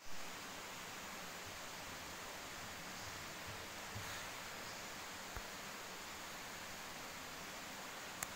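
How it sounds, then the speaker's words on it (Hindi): Waterfall in a forest near a temple, heard as a faint, even, broadband rush of falling water that holds steady throughout, distant, with a few small knocks and no speech. "वाटरफॉल"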